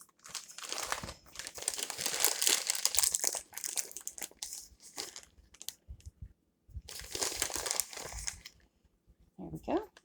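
A 6-ounce bag is crinkled and torn open up close in a lasagna kitchen, with a long rustling burst, a pause, then a second shorter crackling burst.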